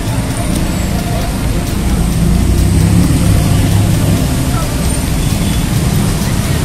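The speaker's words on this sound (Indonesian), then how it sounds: "Ini ada bus." A bus rolls through busy Jakarta street traffic during an anniversary celebration, its engine a broad steady rumble close by, blended with constant roadway noise and crowd murmur.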